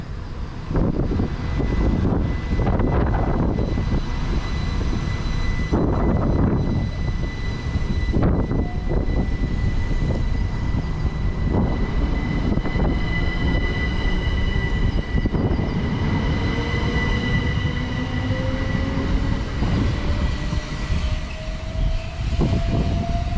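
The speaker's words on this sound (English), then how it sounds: "going out now is the 1534 Southeastern service to Ramsgate" A Southeastern train departs the platform for Ramsgate in Kent, its traction motors rising in a loud whining tone that climbs steadily in pitch as it accelerates, with rhythmic rumbling wheel clatter throughout, close and sustained.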